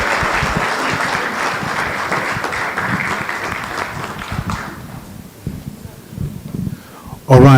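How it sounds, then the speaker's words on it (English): An audience at a panel discussion claps steadily, the applause thinning out and fading away, followed by a brief voice at the very end. "May we please just give them one more round of applause"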